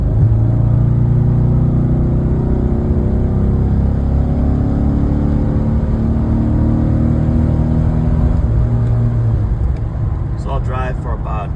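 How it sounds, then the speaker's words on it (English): A Cadillac Escalade engine, recently treated for lifter noise, is floored and pulls hard, a loud, steady low roar and whir from the cabin that holds for several seconds before easing off, with a voice speaking over it. "I'm going to punch it again."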